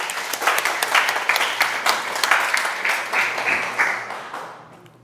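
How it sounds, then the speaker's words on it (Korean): An audience breaks into applause during a talk, a dense, lively patter of many hands that rises quickly, holds for a few seconds and then fades away toward the end. "이때는 박수로 한번 나와야 돼"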